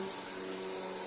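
A Royal Pro Series Multi Floor vacuum cleaner runs with a steady, even whine and whooshing airflow, faint and unbroken throughout.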